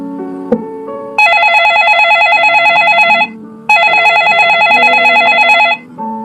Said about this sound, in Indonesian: Terdengar suara dering ponsel Harlan berkali-kali.